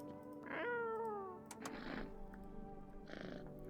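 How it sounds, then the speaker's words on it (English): A cat in a video game meows up close with a long, falling, tonal call, followed by two shorter, breathier meows with gaps between them. "Pet the cat."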